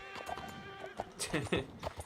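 A horse in Red Dead Redemption 2 whinnies with a wavering neigh, followed by a few clip-clopping hoofbeats, with a voice briefly audible over it.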